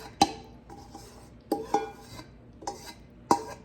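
A casserole dish handled in a home kitchen while making chicken fajita casserole: a few sharp, close ceramic and metal clinks and knocks spaced out irregularly, with quiet shuffling between them.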